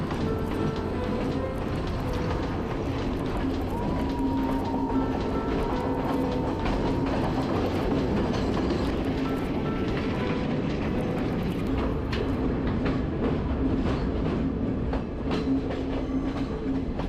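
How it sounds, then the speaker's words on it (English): A train in Sri Lanka's hill country between Ohiya and Idalgashinna rolls along cliffside track with steady clickety-clack and rumbling carriages, loud and close, plus a faint squeal running through. "the train runs along the railway track for most of the journey"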